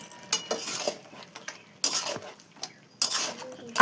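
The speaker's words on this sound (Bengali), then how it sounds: "চিনিটাকে ভালো করে মিশিয়ে নিতে হবে।" Sugar being stirred into a thick vegetarian spinach curry in a pan, with scraping spoon strokes and soft clinks against metal, irregular and close, with a faint sizzle underneath.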